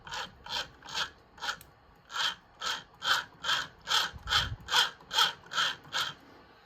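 Turning the tuning mechanism of a SABA Breisgau Automatic 125 radio on FM gives about fourteen evenly spaced, rhythmic ratcheting scrapes. They are quiet and close, with nothing else heard.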